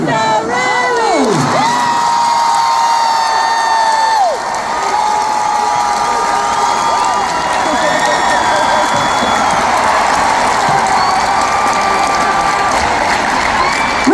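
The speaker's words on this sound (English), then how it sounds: "applause for Riley here" A concert crowd at a show in Philadelphia cheers, whoops and applauds loudly and continuously for a fan, dense roaring noise with shouting and clapping throughout.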